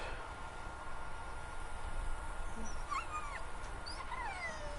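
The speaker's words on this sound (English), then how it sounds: "it's so cliched with that dog whimpering" A dog whimpers in The Walking Dead: The Final Season video game, giving a few thin, high, wavering whines over a steady hushed background, faint and somewhat distant.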